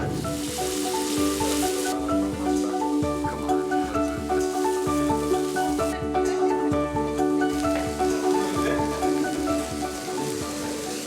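Meat sizzles steadily on a portable charcoal brazier grill, a dense, continuous crackle and hiss with a low layered background hum, close and fairly loud throughout.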